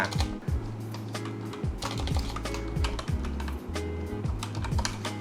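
Typing on a computer keyboard while designing a phone case for an iPhone 13 Pro Max, a close, loud run of rapid key clicks and clacks with brief pauses, no talking.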